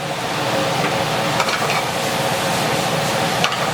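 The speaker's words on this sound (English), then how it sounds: "So for that, we are sauteing all the mushrooms." Mushrooms seasoned with salt and pepper sauté in a hot pan, giving a steady close sizzle with occasional clinks and scrapes of a utensil stirring against the pan.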